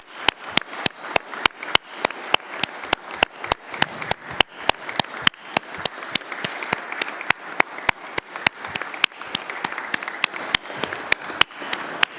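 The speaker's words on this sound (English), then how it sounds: "Perhaps we can all stand and applaud him for a minute." Council members at an extraordinary meeting stand and applaud in a long, steady stretch of clapping from a modest group, with some sharp, individual claps cutting through a continuous patter.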